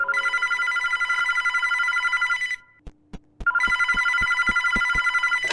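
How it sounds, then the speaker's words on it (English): An old-style telephone bell rings in two long loud bursts, broken by a short pause of low clicks and thuds. "the phone started to ring"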